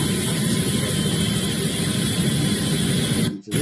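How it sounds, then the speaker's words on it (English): An Apache helicopter in flight heard as a steady, loud broadband roar of engine and rotor wash, unbroken for several seconds before a brief dropout near the end. "Looking at this Apache helicopter that you're just watching."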